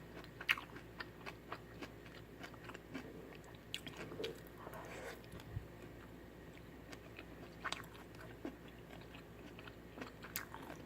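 Chewing and biting on grilled pork belly cooked on a stainless steel pan, with soft crunchy, wet mouth sounds repeating close up through a quiet room.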